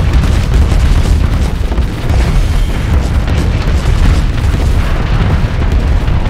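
Continuous bombardment in the Starsector space game: loud, dense rumbling booms and bursts overlap without pause, a heavy roar of repeated blasts.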